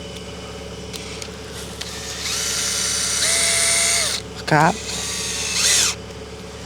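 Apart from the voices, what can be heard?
power drill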